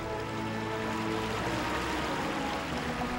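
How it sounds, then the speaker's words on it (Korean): A small stream flowing through the grounds of Changgyeonggung palace in Seoul, a soft, continuous low trickle and babble of water, steady and fairly quiet with no voices. "미처 귀 기울이지 못했던 이 나지막한 물소리."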